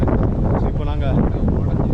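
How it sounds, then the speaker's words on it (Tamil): Strong outdoor wind buffets the microphone at a fort in Mumbai, a steady loud rumble that fills the whole moment. "இட்ஸ் நல்லா காற்று."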